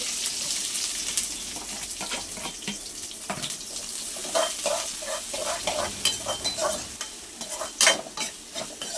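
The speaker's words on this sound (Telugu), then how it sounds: "ఇలా ఆనియన్స్ అంతా కొంచెం లైట్ బ్రౌన్ కలర్ వచ్చే వరకు మనం వేయించుకోవాలి" Onions fry in oil with mustard seeds, a continuous sizzle with stirring scrapes and clatters, some moments sounding watery like a running tap, loudest toward the end.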